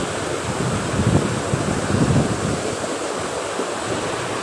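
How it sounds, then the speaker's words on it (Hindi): A fast-flowing river rushes below a high vantage point at Harnoi, producing a steady, loud roar of water mixed with wind buffeting the microphone, with no voices. "नीचे दरिया बह रहा है, पानी आपके सामने है किस कदर स्पीड से जा रहा है।"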